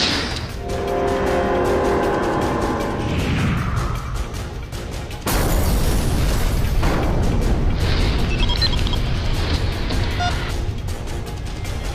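Alpha missile launch in a sci-fi space battle, a dense roaring rumble with rapid crackling pulses that suddenly jumps into a louder, harsher explosive blast midway and keeps booming.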